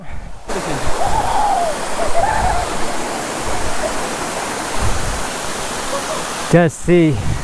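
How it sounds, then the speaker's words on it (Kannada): Kulimagodu waterfall near Yellapur roars as a loud, unbroken rush of falling water heard up close, with brief voices and a short sharp cry near the end. "ಯಲ್ಲಾಪುರಕ್ಕೆ ಕುಳಿಮಗೋಡ್ ಫಾಲ್ಸ್"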